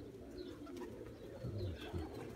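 Pigeon cooing from a lone female pigeon, low soft coos repeating a few times close by, steady and alone without talk.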